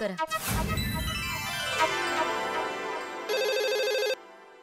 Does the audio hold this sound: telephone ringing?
yes